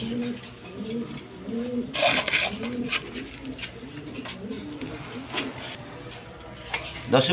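Mixed-colour king pigeons on a farm cooing in repeated soft, rolling calls, close by, with someone talking intermittently over them and occasional clatter.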